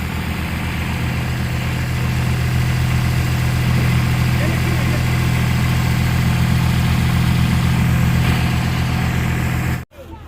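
A small grey-blue Renault tractor engine idles steadily close by, a continuous low mechanical hum that holds throughout before cutting off abruptly near the end.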